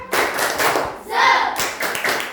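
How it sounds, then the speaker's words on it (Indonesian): A class of students claps in a classroom during a Pancasila lesson: two loud bursts of close, brisk hand claps separated by a short spoken interjection. "Tepuk tangan buat kalian semua."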